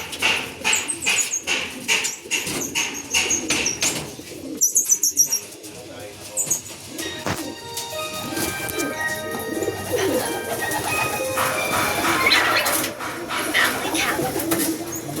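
Racing pigeons arriving at a loft during a derby race in Gumaca, Quezon, with bursts of flapping wings, soft cooing and chirps, a dog barking, and voices talking nearby.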